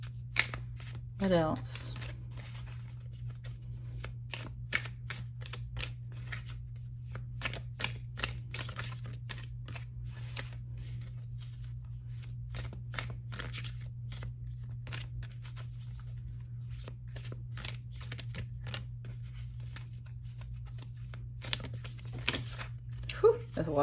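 Tarot cards being shuffled in quick, crisp riffles and flicks that continue steadily for over twenty seconds, close and fairly quiet, with a person speaking briefly over a low steady hum.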